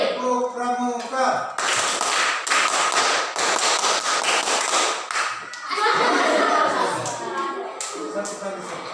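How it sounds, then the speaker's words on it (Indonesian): A school class performs the scout-style rhythmic clap, tepuk pramuka, a loud burst of patterned hand claps in quick groups, with voices chanting and calling along throughout. "Masih ingat tepuk pramuka? Masih. Tepuk pramuka."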